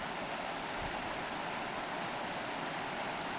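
A creek flows as a continuous broad rush of water, steady and fairly faint, with no voices over it.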